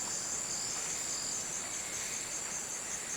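Insects, crickets among them, chirp in a dense, steady high-pitched chorus in a forest of Cusco or Madre de Dios, continuous and alone without any voices.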